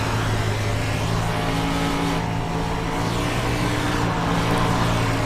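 Several 305 sprint car engines race together at Eldora in iRacing, giving a dense, continuous, loud engine drone that holds steady with only slight swells and no talk.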